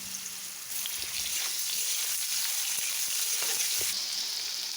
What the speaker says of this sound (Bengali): মূলোটা ভেজে নেব।